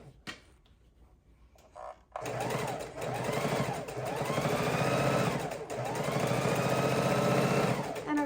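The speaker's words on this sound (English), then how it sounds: "we're going to sew a 1/4 inch seam all the way around 1/2 of our pillow" A sewing machine runs steadily, stitching a quarter-inch seam along a flannel pillow. The motor hums loud and close in long continuous bursts after a brief quiet start with light handling sounds.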